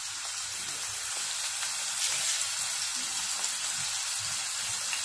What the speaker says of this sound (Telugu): సన్నగా కట్ చేసిన ఉల్లిపాయ పచ్చిమిర్చి ముక్కలు వేసుకుని వేయించుకుందాం